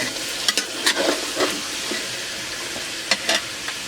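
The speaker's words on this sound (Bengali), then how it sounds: "এই যে মাংসটা একটু ভাজা ভাজা হয়ে গেছে" Meat frying in a pan while being stirred: loud, close sizzling broken by several sharp scraping strokes that come in small clusters, with no voices.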